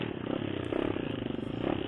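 Trail motorcycle descending a slope in first gear, the engine holding a steady, low, chugging drone under engine braking, close and continuous with a faint rattle, no talk.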